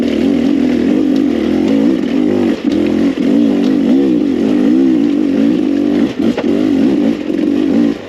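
Two-stroke engine of a 2021 Beta 300rr enduro dirt bike revving hard and shifting up through the gears, loud and close, with a rising and falling pitch and brief dips between gears, no talk.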